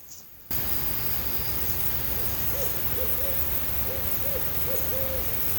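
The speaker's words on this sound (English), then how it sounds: "I love barred owls." A barred owl hoots from the distance beside Long Pond in the St Regis Canoe Area, several faint rhythmic hoots in short bursts over steady broadband hiss, with no voices.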